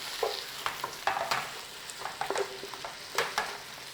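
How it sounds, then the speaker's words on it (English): Onions, any white, red or brown variety, frying in a pan on a lit burner with salt added, giving a steady soft sizzle broken by repeated scraping, stirring knocks close by, with no talk. "Bring out the moisture of the onions as it's cooking"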